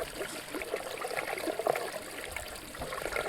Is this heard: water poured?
yes